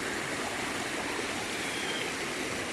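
A mountain torrent flows steadily on a trek around a lake, its water rushing in a continuous broadband roar at close range with no breaks and no voices.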